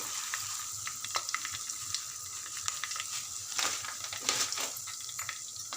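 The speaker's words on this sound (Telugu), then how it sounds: "ఇది బాగా ఫ్రై అయ్యేదాకా కలపాలి" Sesame seeds fry in a pan for a tomato coriander chutney, with a soft steady sizzle, scattered popping crackles and occasional scraping from stirring.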